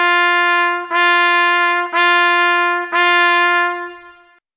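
A trumpet sounds four short notes, all on G, each a clear brassy tone with a crisp attack and brief sustain, evenly spaced, played alone with no talking.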